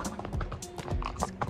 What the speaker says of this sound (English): can hear my horse galloping